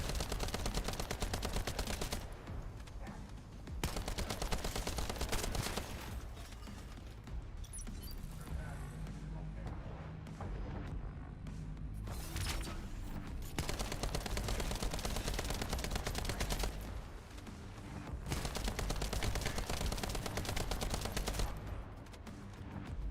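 Sustained automatic gunfire in the looter-shooter The First Descendant roars in long dense bursts during a boss fight, loud and near, with brief pauses between volleys and people talking over it.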